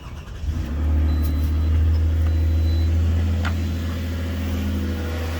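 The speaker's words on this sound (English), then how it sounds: "So what we do is start up the car." A used car's engine cranks and catches, then settles into a steady, low, deep idle hum with a faint rumble, heard up close and alone.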